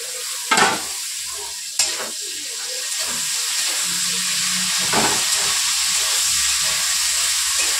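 Potato and cauliflower pieces fry in a pan with a steady, close sizzle and hiss, broken near the start by a couple of sharp clinks from stirring.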